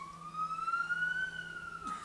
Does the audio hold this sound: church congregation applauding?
no